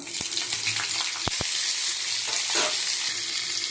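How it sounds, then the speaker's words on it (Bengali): Whole five-spice seeds hit hot oil in a wok and sizzle loudly in a continuous broadband hiss, broken by a few sharp clicks and scrapes of a utensil against the pan. "তেলটা গরম হয়ে গেছে, ফোড়নে 5 ফোড়ন দিচ্ছি।"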